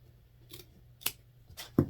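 Scissors snip decoupage paper in a short Easter craft trim: three quiet, crisp cuts spaced about half a second apart, alone in an otherwise still room.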